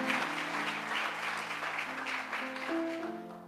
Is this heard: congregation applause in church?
yes